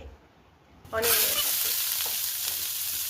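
Cumin and mustard seeds dropped into hot ghee, a sudden loud sizzle bursting in after a quiet moment and then holding as a steady close crackle with a few pops.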